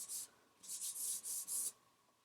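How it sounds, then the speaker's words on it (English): A hard eraser rubs across a charcoal drawing on paper in five short scratchy strokes, the first alone and the rest in quick succession, quiet and close. "Take my hard eraser and erase"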